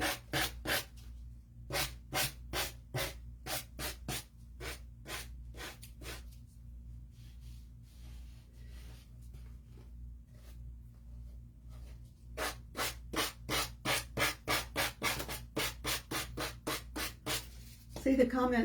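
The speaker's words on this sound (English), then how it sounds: "This is my homemade sander with a nail file." Homemade nail-file sander rubbing on a craft piece, quick bursts of rhythmic scraping strokes, about a dozen at a time, then a quiet stretch before another fast run of strokes, close and clear.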